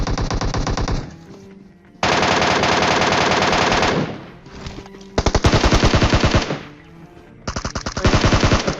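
Heavy MK rifle fire in a shooter video game, delivered as several long, loud bursts of rapid shots separated by short pauses, with no talking.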